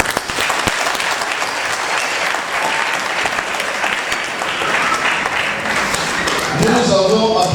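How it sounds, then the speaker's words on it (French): Guests at a civil wedding ceremony applauding, a dense, sustained wash of clapping from a crowd in the room, with voices murmuring underneath and rising toward the end. "Nous avons applaudi l'harmonie déjà."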